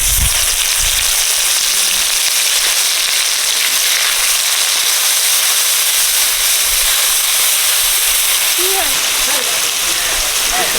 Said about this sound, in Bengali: রুই মাছ ওদিকে ভাজা হচ্ছে